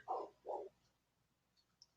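A dog barks twice in quick succession, faint and somewhat distant, followed by near silence with a couple of tiny clicks.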